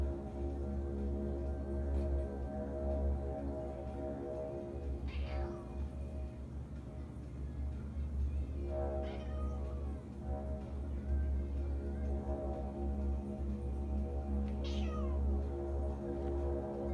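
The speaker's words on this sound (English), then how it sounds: "this random standalone video of his cat meowing at the door" A cat meows at a door, several drawn-out plaintive cries spaced a few seconds apart over a steady low indoor hum, fairly close and moderately loud, with no one talking.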